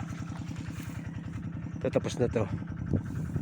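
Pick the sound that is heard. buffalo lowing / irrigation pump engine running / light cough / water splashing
irrigation pump engine running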